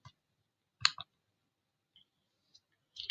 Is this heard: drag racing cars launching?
no